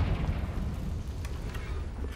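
Confringo blasting spell cast in Hogwarts Legacy: a loud, continuous low rumble of booming fiery blasts that holds steady for about two seconds.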